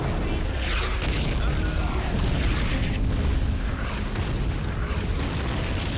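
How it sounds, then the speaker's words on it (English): Artillery explosions in the Army Men Battle Simulator video game, a continuous barrage of booming blasts and rumbling impacts that stays loud and dense throughout, with speech mixed in. "He's called artillery on himself."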